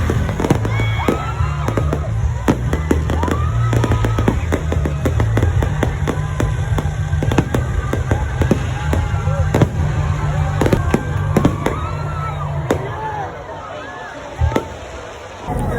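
Rapid bursts of fireworks crackle and pop nonstop, loud and close, with people talking and shouting underneath.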